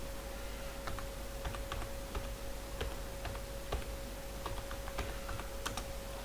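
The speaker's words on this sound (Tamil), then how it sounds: "இப்போ இதில் சர்டிஃபிகேட் ஆஃப் அச்சீவ்மெண்ட்னு டைப் பண்ணிவிட்டேன்" Fingers typing on a computer keyboard, fast irregular clicks and taps in short bursts under a faint steady hum, close and fairly quiet, with no voices.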